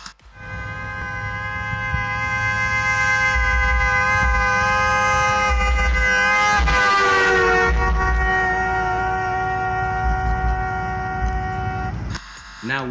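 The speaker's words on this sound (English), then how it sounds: "we will show you the Doppler effect with a vehicle and how does it sound" A simulated vehicle horn blares as a sustained, loud, multi-tone honk that rises in pitch as it approaches, then drops noticeably as it passes, before cutting off abruptly near the end.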